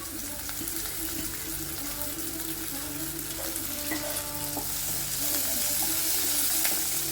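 Coriander and curry leaves sizzle in a hot pan for a rava (semolina) breakfast dish, a dense, steady frying hiss with faint scraping and pops throughout.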